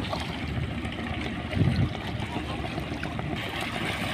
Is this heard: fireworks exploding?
no